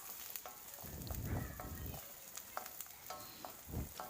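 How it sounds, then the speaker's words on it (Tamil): Onions sautéed in a pan, a low steady sizzle broken by bursts of spatula stirring and scraping against the metal, close and alone without speech. "வெங்காயத்தை நல்லா வதக்கி விட்டுக்கோங்க"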